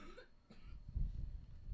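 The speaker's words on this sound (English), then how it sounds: "I got a cough because I'm sick" A person who is sick coughs once, a short raspy burst, followed by a low rumble of handling noise.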